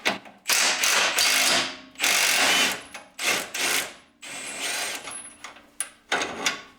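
A wrench works a steering jam nut under a Jeep YJ, with bursts of ratcheting, clicking mechanical sounds stopping and starting in close, loud spurts.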